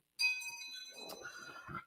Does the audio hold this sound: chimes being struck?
yes